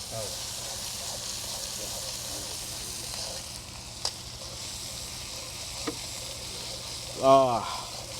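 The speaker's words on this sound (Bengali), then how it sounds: "মানে কাঁচা মরিচটা যখন এভাবে প্রথম তৈলে দিয়ে ফ্রাইটা হয়" Green chili fries in hot oil aboard a river boat during a midnight sehri meal. It makes a steady close hiss and sizzle with a couple of sharp clicks, and a brief voiced sound comes near the end.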